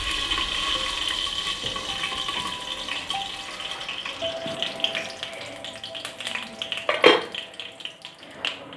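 Fennel seeds splutter in hot oil while tempering for Thoothukudi-style mutton chukka. A steady close sizzle and hiss carries scattered crackles and grows busier, with sharper pops toward the end.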